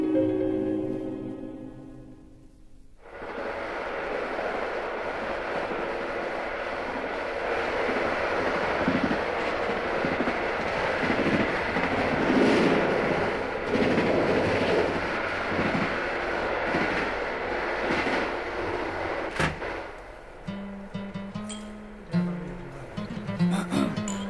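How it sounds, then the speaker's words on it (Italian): A train pulls out of a station as a sound effect in a 1970 Italian song, starting with a brief musical passage and then turning into a long, steady rumble of rolling carriages before music returns near the end. "Treno lascia la stazione"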